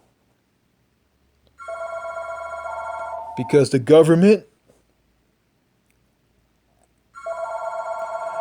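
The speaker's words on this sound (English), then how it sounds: "Yeah, the phone is ringing." Telephone bell rings in steady bursts, loud and near, stops while someone talks over it, then starts ringing again alone.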